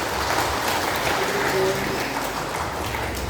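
A church congregation claps steadily in a dense, continuous patter at a Christmas celebration for the women's, men's and elderly groups, with voices mixed in underneath.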